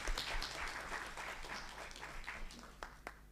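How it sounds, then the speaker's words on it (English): Audience applause at a university public lecture event, a dense wash of clapping hands that holds steady and then thins out and fades near the end, heard from within a hall. "clap your hand please for the students"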